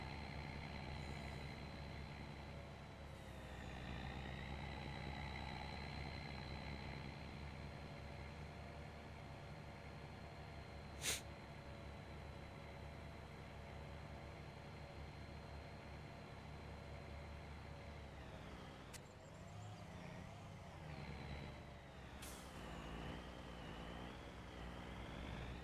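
A Kenworth truck with a big engine idles in a farming video game, a low, steady harmonic drone that stays faint and even throughout with no change in pitch.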